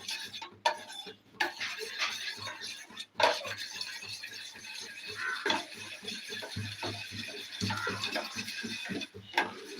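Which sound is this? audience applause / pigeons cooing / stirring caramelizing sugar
stirring caramelizing sugar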